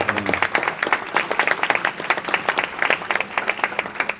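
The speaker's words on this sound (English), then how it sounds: "Let's have a round of applause" A small crowd at a community breakfast event claps for caterers, distinct individual claps in a brisk, fairly close burst that carries through the whole stretch.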